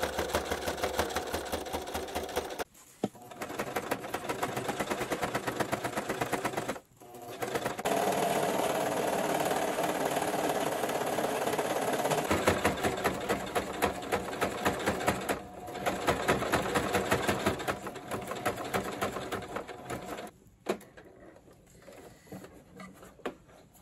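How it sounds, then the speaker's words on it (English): A sewing machine runs in long steady bursts while top stitching the front of a pair of overalls, a close, loud mechanical whir broken by short pauses between seams. "Okay, so I just finished top stitching the front completely."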